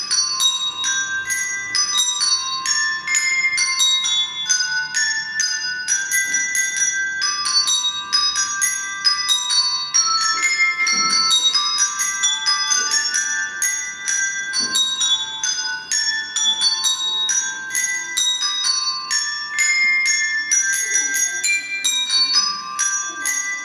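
A handbell ensemble plays the glockenspiel passage from Mozart's Magic Flute, bright ringing tones in a quick melodic line with overlapping decays, clear and fairly close, with no voices over the bells.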